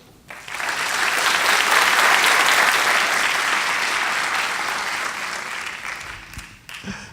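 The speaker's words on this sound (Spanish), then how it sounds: "Ahora vamos a aplaudir todos." A whole church congregation bursts into loud, dense applause that swells within a second, holds steady for several seconds as a continuous wash of many hands, then thins out toward the end.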